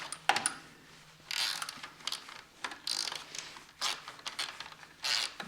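Metal screws are driven into plastic to secure the front camera on a Jeep JL, heard as a series of close ratcheting clicks in short bursts with brief pauses between them.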